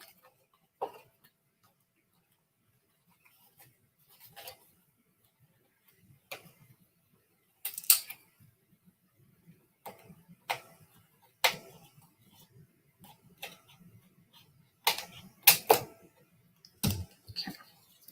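Cardstock is trimmed for card making, giving sparse, sharp clicks and snips spread irregularly over a quiet background with soft handling noises between them and no voices.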